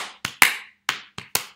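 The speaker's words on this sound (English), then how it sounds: "Never clap this one back." A short clapped rhythm for a children's music lesson: six crisp, close hand claps in an irregular pattern of quick pairs and longer gaps, heard alone without talking.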